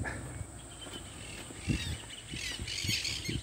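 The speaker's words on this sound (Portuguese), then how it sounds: "ah, caturrito, periquito. Periquito." Monk parakeets call from a rural property in rough, squawking bursts that repeat irregularly at moderate distance over a steady outdoor hiss.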